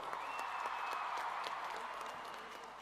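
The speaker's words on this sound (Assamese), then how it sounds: "এটা ডাঙৰ হাত চাপৰি" Applause from an audience at a Guinness World Record bihu dance event in Assam in 2023, clapping for the bihu dancers as a steady dense roar of many hands, easing slightly toward the end.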